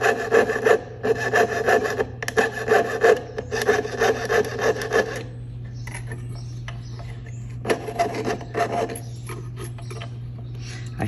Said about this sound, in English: So very gently go in with my saw,